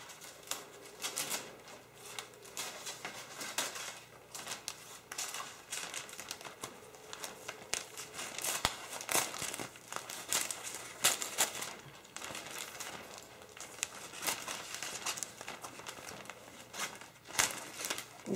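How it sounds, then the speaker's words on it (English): Scissors slowly snipping through clear cellophane for a Halloween gift basket, with a steady run of crisp, crinkling cuts and rustles close by, no talking. "So now I'm going to gently start cutting my cellophane."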